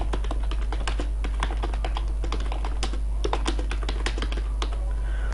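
Someone types continuously on a computer keyboard while setting up InPage Urdu, a dense run of close, rapid key clicks over a low steady hum, with no talk.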